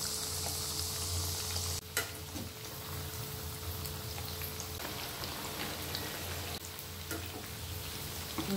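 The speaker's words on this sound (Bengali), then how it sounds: "দেখুন আমাদের ভাজা হয়ে গেছে" Drumstick flower fritters (bora) deep-fry in hot oil with a steady, close crackling sizzle, punctuated by a few sharp clinks or stirs, with no voices.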